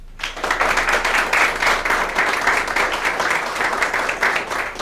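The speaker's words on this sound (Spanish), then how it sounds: "Pues brindémosle un fuerte aplauso al doctor" An audience at an academic session on thyroid health for laboratory professionals applauds the doctor, a dense, steady round of clapping that holds for several seconds with faint voices beneath.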